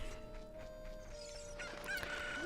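A cuckoo chicken in The Legend of Zelda: Ocarina of Time clucks in soft game tones over a quiet steady musical background, with a brighter chirping call near the end.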